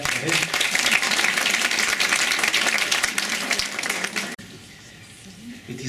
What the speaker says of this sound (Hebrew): אפשר למחוא כפיים